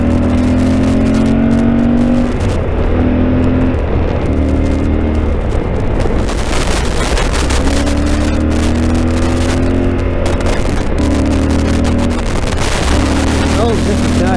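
A Yamaha Super Tenere motorcycle engine drones loudly and continuously through corners, its pitch rising and falling as the throttle changes, with heavy wind buffeting across the whole stretch.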